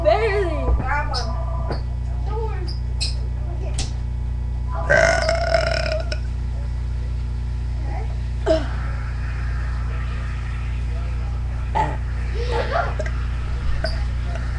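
Repeated loud burps from people competing in a burp contest, short bursts with a longer rough one midway, with chatter and laughter between them.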